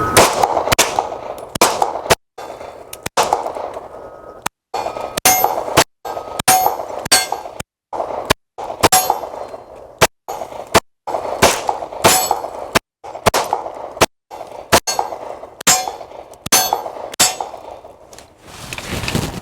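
Two FK Brno PSD pistols, one 9mm and one .40 caliber, fired dual-wielded in loud, sharp, irregular bursts of shots with short pauses between volleys, close and without talk.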